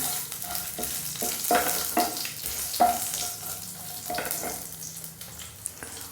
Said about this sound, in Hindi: 2 हरी इलायची, 2 लौंग ले ली है, 2 लौंग ले ली हैं और 4-5 काली मिर्च। तो इनको थोड़ा सा भून लेंगे।